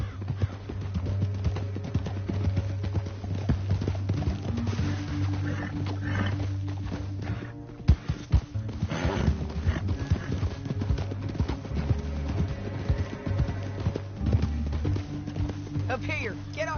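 Horses' hooves clip-clop steadily through a Red Dead Redemption 2 game scene, riding at a fair distance beneath a constant low musical drone, with people talking at moments.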